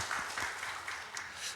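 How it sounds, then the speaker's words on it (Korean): A church congregation claps during a Sunday service, a short, soft burst of applause heard at a distance in a large room. "박수를 하겠습니다."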